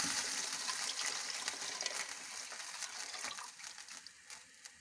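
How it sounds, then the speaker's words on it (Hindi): Water poured from a jug into a cooking pot of mutton paaye browned in ghee, a steady gushing splash that is loudest at first and thins out toward the end, heard alone without talk. "हम 2 जग पानी के ऐड करेंगे।"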